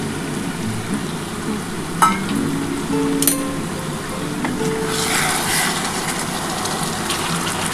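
Hot water is poured into a simmering aar or rita fish kalia curry in the pan, producing a loud, continuous sizzle and frying hiss with a few faint clinks of a utensil.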